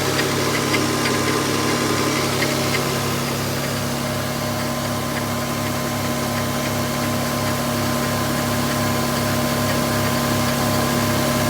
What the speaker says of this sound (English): A little bit of noise from somewhere, might be power steering.